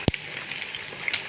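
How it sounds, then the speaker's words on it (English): Cow leg frying in a hot pan, a soft steady sizzle with a sharp pop near the start and a few crackles later, close by with no talking. "I will start by frying my cow leg"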